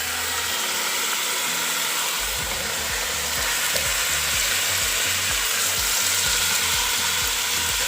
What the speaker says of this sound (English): I am adding in my beef pieces into the pot.